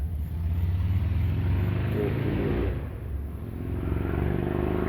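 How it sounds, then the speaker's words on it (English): A big hog motorcycle rumbles past outdoors near a stop sign, its engine swelling loud, dipping briefly, then building again as a heavy, clattering roar. "I don't know if you can hear that, but somebody has a big hog motorcycle."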